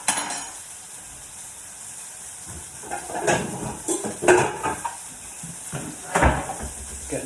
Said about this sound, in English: just brown those mushrooms off